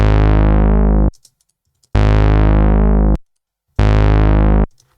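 Synth bass notes with effects switched off and on, three long, loud sustained tones separated by brief gaps with faint clicks between them.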